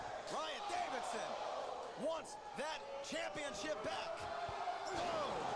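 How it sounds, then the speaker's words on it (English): A wrestler slammed down onto the mat with a suplex during a tape match in an arena, several loud booming thuds on the canvas amid a lively crowd and commentary. "Just slammed him down with a suplex."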